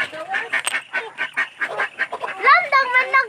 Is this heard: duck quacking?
yes